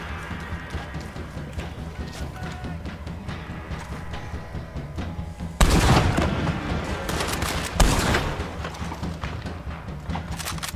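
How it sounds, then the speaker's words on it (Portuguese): Rapid bursts of machine gun fire in a video game crackle over a busy, continuous background of game noise, with two louder volleys standing out. "Olha o barulho da metralhadora."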